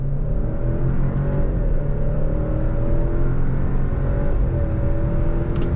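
A 2022 Alfa Romeo Stelvio Quadrifoglio sport SUV pulls hard in second gear under full throttle, its engine note loud, close and steady as revs climb through the run, with no talk over it.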